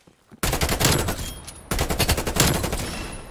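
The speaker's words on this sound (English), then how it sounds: "A lot of gunfights over here." Rapid automatic gunfire in Call of Duty Cold War during a bot-shooting session, two loud sustained bursts of fast shots, the first after a short quiet start and the second following a brief gap, close and punchy.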